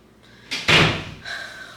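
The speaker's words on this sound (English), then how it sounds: "Close the door." A door swings and shuts with a firm thud, followed by a short rattling settle and a faint lingering hum, close by in a quiet room.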